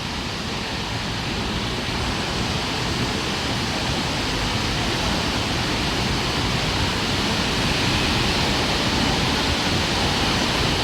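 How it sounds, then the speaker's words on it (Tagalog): Floodwater of the swollen Marikina River rushes past in a strong current, making a steady, loud, unbroken roar that holds level throughout with no voices over it. "Ang lakas ng ano, ang lakas ng agos talaga."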